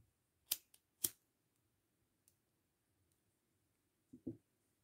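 Scissors snip through crochet yarn in a quiet room, two crisp close cuts early on and a final pair of snips near the end, with no voices.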